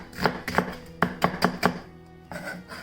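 Knife chopping onions and garlic on a cutting board in a home kitchen: crisp, close thuds in uneven groups of two and three, with a short pause before the chopping resumes.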